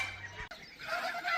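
Geese and other fowl call from a homestead pen, with brief honks and clucks sounding at moderate distance, broken by a short knock partway through.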